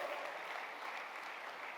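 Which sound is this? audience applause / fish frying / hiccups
audience applause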